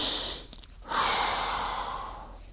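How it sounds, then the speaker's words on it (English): Slow, deep breathing, a long airy inhale or exhale swelling after a brief pause, close and soft with no talk. "Breathing is keeping you alive."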